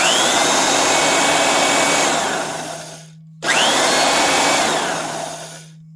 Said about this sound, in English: Just to run one of these sanders. Pretty quiet